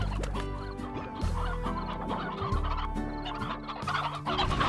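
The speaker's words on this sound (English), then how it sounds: "I have more hens than I know what to do with." Hens cluck in the video game Slime Rancher, a dense overlapping flock of clucks and squawks with game music running continuously beneath, loud and close throughout.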